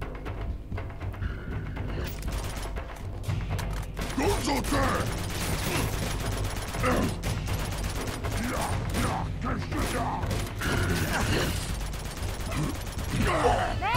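Rapid gunfire in Uncharted 2: Among Thieves crackles continuously under a busy mix of mechanical clanks and effects, steady and moderately loud.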